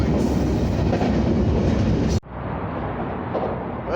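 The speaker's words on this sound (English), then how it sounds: "we just got off the train here in Jackson, Mississippi" A passenger train in Jackson, Mississippi gives a loud, close, continuous rumble that cuts off sharply, then a quieter rolling rail noise follows.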